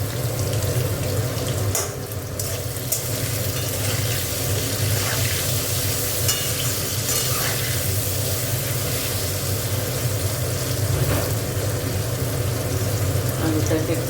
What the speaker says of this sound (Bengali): আলুটাকে একটু লাল করে ভেজে তুলে নেব।